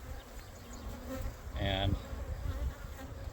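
Honeybees buzz calmly in an open beehive fitted with extra comb held by rubber bands, a steady hum with a louder, closer drone swelling briefly midway.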